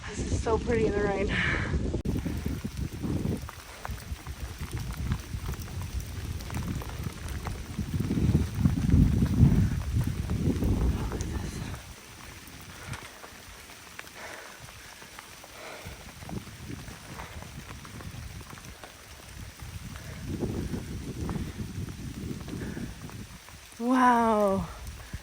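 Rain patters steadily through a forest, soft and continuous, with low rustling and intermittent footsteps or movement close by; a brief bird call near the end.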